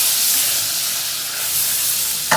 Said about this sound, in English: I'm going to toss in the tablespoon of white wine and mix that up